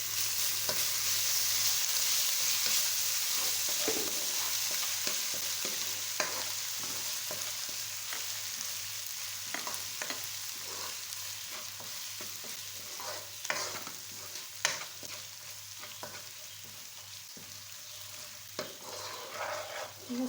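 Steady sizzling of garlic-ginger paste frying in a pan with golden onions, with occasional stirring scrapes, continuous and close throughout.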